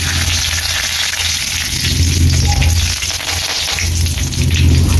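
Steady crackling sizzle of mustard seeds, curry leaves, peanuts and chana dal popping in hot oil for puliyodharai, continuous and close, with no talking.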